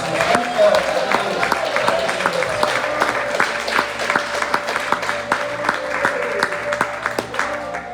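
A church congregation applauds its new pastor, with steady, sustained clapping from many hands filling the room and a held tone running beneath it throughout.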